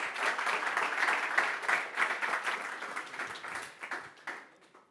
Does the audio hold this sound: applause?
yes